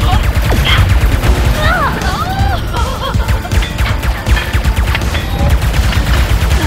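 Enemy gunfire in Ratchet & Clank: Rift Apart, loud rapid shots, crashes and impacts in a continuous barrage, with whistling weapon sounds mixed in and a player's voice occasionally talking over the action.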